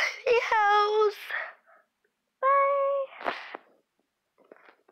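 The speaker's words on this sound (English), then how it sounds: "Meows." A cat meows a few times, clear and close, with short pauses and faint rustling between the calls.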